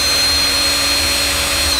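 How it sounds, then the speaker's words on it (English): A power drill whines steadily at high speed while working on a Nissan S13 during a 12-inch SPAL fan install, one continuous loud tonal run with no pauses. "Fucking start drilling."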